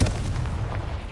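A Confringo blasting spell explodes in Hogwarts Legacy, a single loud booming burst right at the start followed by a rumbling low-end tail that fades over about a second.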